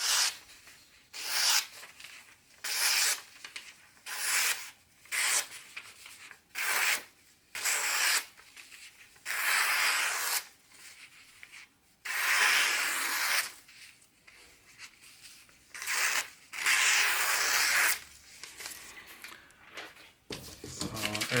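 A Fox Shadow knife slicing through newspaper, producing a series of rhythmic rasping, rustling cuts, each lasting about a second, close and fairly loud, repeated many times.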